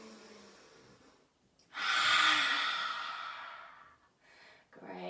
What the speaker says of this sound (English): we're going to take 3 lion or lioness, your choice, breaths